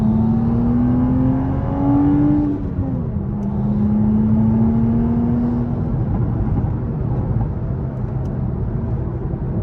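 Manual Toyota Supra with a B58 engine and catless downpipe exhaust, a loud close engine drone whose pitch climbs, dips through a gear change, then holds steady as the car keeps pulling.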